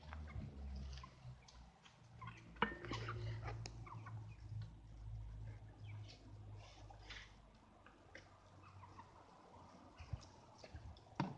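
Chickens and a turkey-like fowl cluck and gobble in a coop, steady faint calls under low rumbling background noise, with a child and adult moving about nearby.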